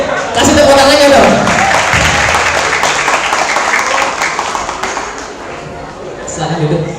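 Audience applause during a talkshow at an Islamic fair, a loud, dense wash of clapping and crowd noise that holds for several seconds and then thins out near the end, with voices mixed in.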